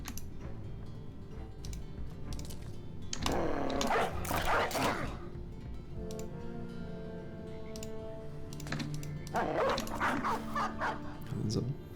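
Chivalry-style warhound in a medieval combat video game, barking and yipping in short bursts around the middle and end, mixed with clashing game noise and a voice talking.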